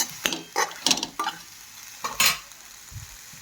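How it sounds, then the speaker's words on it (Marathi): Sprouted moth beans being stirred into a frying spice masala in a pan, giving about six separate scraping, sizzling strokes close up, followed by a soft low knock. "आता आपण या मटकीला पूर्ण मसाल्यामध्ये मिक्स करून घ्यायचं आहे, जेणेकरून सगळे मसाले आपल्या मटकीला लागले जातील"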